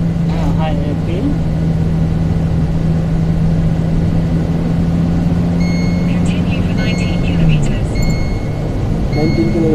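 A car cruises along an expressway in Singapore, its steady engine and road drone running continuously and close throughout, with a voice talking over it.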